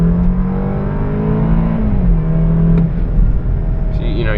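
A BMW 328 engine heard from inside the car, a loud steady hum whose pitch drops as the gearbox shifts, then rises again under throttle, with road rumble and a voice talking over it.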